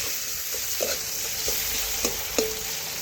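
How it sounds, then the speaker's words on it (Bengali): Chopped onions fry in hot oil in a kadai, with a steady close sizzle and a few soft scraping stirs. "পেঁয়াজ একটু লাল লাল করে ভেজে নেব।"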